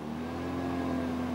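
Ferrari sports car on a leisurely countryside drive, a steady mid-pitched engine hum holding even and close for a brief stretch, with no voices.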